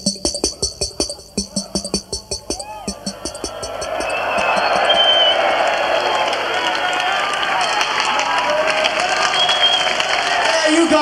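A concert crowd at a live show in London in 1980 swells into loud applause and cheering after a rhythmic thumping passage, the roar building and holding steady as a broad, distant wash.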